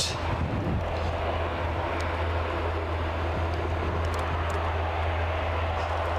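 A Wideroe airliner lines up on the runway at Aberdeen airport, its engines a steady, distant droning rumble with a strong low hum that holds evenly throughout.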